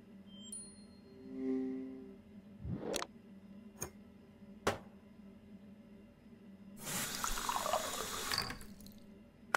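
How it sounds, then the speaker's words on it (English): Water runs from a tap into a container in a mystery video game, a short hissing pour near the end, preceded by a chime and a few sharp clicks. "Now to fill it up with water and drop one of the tablets in."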